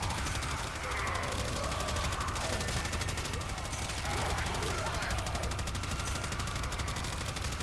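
Heavy automatic gunfire from the Phenmor Incarnon rifle in the Warframe video game, a loud, continuous rapid stream of shots hammering on without pause as it sweeps down a hallway.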